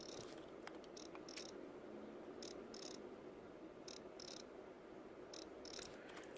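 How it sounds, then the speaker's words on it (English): The sound chip inside a fishing lure gives off faint, cricket-like chirping in short repeated bursts, coming at regular intervals over a quiet background. "there's like a little chirping sound"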